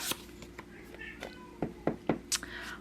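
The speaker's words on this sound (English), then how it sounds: "my poor kitty, she is just feeling like she really, really needs some attention from the mummy" A pet cat gives faint, brief meows for attention near a crafter at work, mixed with soft rustling, light knocks and low background noise.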